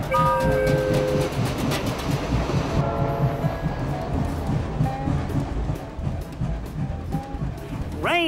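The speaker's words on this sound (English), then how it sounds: "That train is making a rhythm." A train rumbles along the rails with a steady rolling rhythm, joined by faint tonal squeals and a rising whine near the end.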